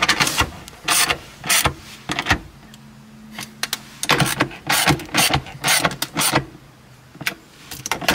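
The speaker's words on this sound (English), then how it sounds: "Now in this instance, I'll just get it hand tight now with the ratchet." A ratchet tightens short shifter bolts on a 2022 Corolla hatchback in bursts of quick clicking, close and crisp, separated by brief pauses and a low hum, with no talk.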